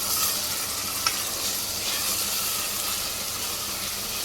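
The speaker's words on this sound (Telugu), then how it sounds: "ఆ పేస్ట్ వేసేసుకుని ఈ పేస్ట్ను కూడా నూనెలో బాగా మగ్గనివ్వాలి" Raw ground masala paste cooks in oil over low to medium heat for a mutton curry, giving a steady, even sizzle and hiss with one small click partway through, no talk.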